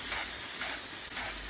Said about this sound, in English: I'm gonna spray my hair all up in the thinning area